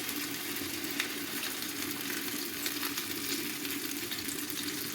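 Green pea paste fries in hot oil with ginger, for kachori filling. A steady, dense crackling sizzle runs evenly throughout, close and unbroken, with no voices.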